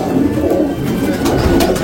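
Pigeons in a loft holding black pigeons and young birds coo close by in low, throaty, overlapping murmurs over a short stretch, with no talk.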